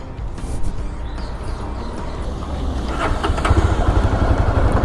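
A Jawa Bobber 42 motorcycle on a test ride gives a steady engine drone mixed with wind rush, rising slightly louder toward the end, with no talk.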